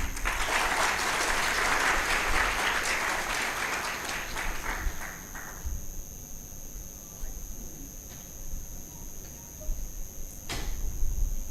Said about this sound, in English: Please give them a big hand.